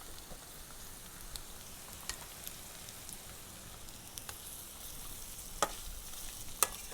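Onions and green chillies fry with ginger and garlic in a pan for chicken curry, giving a steady soft sizzle with faint crackles and a few sharp pops near the end, no voices.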